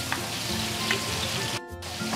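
Marinated pork sizzles in a pan during home dinner cooking, a continuous crackling hiss with a brief dip in the middle, close and moderately loud with no talking.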